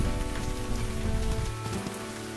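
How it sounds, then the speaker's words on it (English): Heavy rain pours in the WolfQuest wolf game, a dense, close, continuous patter of drops on the ground, loud and alone without voices. "the sky's freaking out. It's raining."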